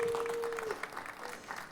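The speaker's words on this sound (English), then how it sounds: "Let's give them another round of applause." Applause from an audience after a choir performance, a steady wash of clapping at moderate level that thins and tapers over under two seconds, with a sustained tone fading out early.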